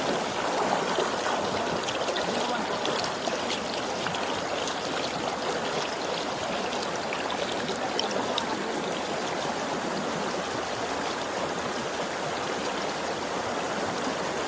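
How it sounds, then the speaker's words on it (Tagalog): Mountain stream on a hiking trail at Mt Eliss in Bulacan, water rushing steadily and loudly close by, a dense continuous wash with no voices over it. "Lumalaki po yung agos."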